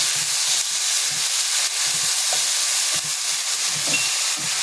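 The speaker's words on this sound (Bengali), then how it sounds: "মশলাটা এখন আমি ভালো করে একটু" Spice paste with black cumin seeds fries in a pan for a small-fish curry, giving a steady close hiss and sizzle with soft stirring scrapes throughout and no voices.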